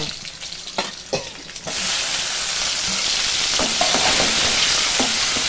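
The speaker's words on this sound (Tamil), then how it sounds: "சின்ன வெங்காயம் போட்டுருக்கேன் கொஞ்சம் வதங்கட்டும்" Small onions fry in a pan for a South Indian lunch, a few utensil knocks giving way to a loud, continuous close sizzle that holds steady to the end.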